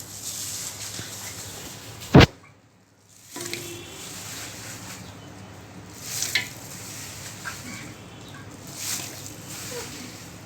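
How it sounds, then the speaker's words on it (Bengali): Beef pieces drop into a pot of frying spice paste for Eid mejbani beef, giving a sharp burst of sizzling followed by a steady, moderate crackle of oil and occasional stirring scrapes. "এখন মাংসগুলি দিয়ে দিব।"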